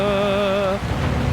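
Rain in the racing game Gran Turismo 7 hisses steadily as a wet, broadband wash, first under a fading tonal engine whine and then on its own.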